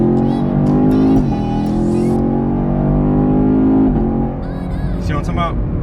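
A 2019 Chevrolet Camaro SS accelerates hard with its automatic transmission shifting on its own, the loud engine note climbing and dropping back at each gear change, heard up close from inside the car.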